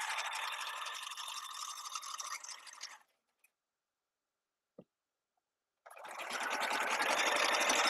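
A sewing machine stitches lion appliqués onto a quilt, running steadily for about three seconds, falling silent apart from a couple of faint clicks, then starting up again loud and close.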